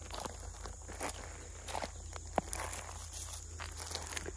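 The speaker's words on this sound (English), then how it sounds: "It's a good sound too. Walking on the stones." Footsteps crunching on stones outdoors, a series of irregular scuffs and crunches, faint and close, with a low steady hum underneath.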